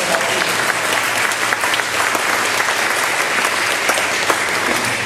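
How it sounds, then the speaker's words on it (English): A church congregation applauds the pastor's wife with loud, dense, sustained clapping that stays even throughout, close and filling the room. "We'll give her a round of applause."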